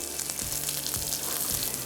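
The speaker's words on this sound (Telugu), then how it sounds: "పచ్చిమిరపకాయలు అన్నీ వేసి చక్కగా వేయించేసుకుందాం." Onions, curry leaves and green chillies sizzling in hot oil for a tempering, a close, steady crackling fry with a few soft stirring bumps and no voices.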